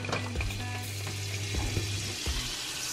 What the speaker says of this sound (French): pour les faire chauffer, je mets juste un tout petit peu de beurre